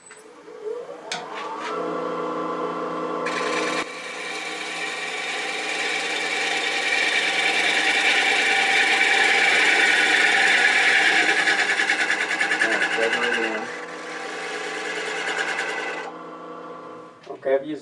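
Wood bowl being turned on a lathe with a bowl gouge for a winged bowl, a steady continuous scraping whir that swells louder in the middle and settles back toward the end, close and sustained.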